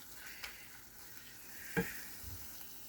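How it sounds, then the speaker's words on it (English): Mushrooms sauteing in a pan with tomato paste being stirred in, a steady soft sizzle with a couple of sharp utensil clicks against the pan. "we're going to take our tomato paste and start mixing it in to our sauteing mushrooms and other ingredients"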